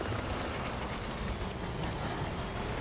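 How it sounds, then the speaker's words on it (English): Steady rain pours down in the video game Death Stranding, a dense, even hiss with a low rumbling undertone that holds constant and fairly loud throughout, with no voices. "just make it rain more."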